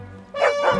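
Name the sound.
dog barking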